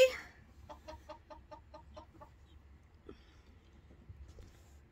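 A sick rooster with a diseased eye clucks in a quick run of about eight short, even clucks, then goes quiet over a low background hum.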